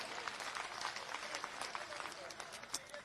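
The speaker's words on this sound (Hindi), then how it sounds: "जोरदार तालियां बजाएं" A crowd applauds Chief Minister Yogi Adityanath at a public event in Barsana, Mathura. The clapping is a dense, steady wash that lasts throughout, with a voice faintly audible beneath it.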